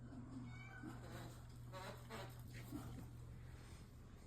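A house cat meows a few times, soft and fairly close, over a steady low hum in a quiet home.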